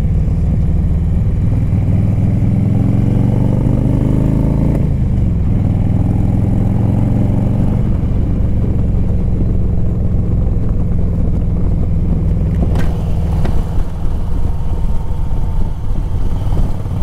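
A 2006 Harley-Davidson Electra Glide Classic motorcycle engine runs loud and close, a steady low rumble that dips and swells briefly, with no talking.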